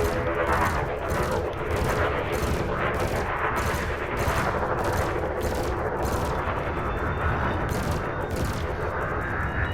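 Spaceship weapons firing in a combat chase in the video game Elite Dangerous, a dense, continuous barrage of rapid repeated shots with a steady roar, loud and close throughout with no pauses.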